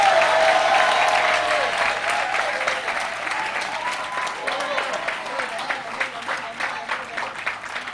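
A church congregation breaks into sustained applause mixed with cheering, close and loud, with a voice calling out over the crowd at the start before the clapping dominates throughout.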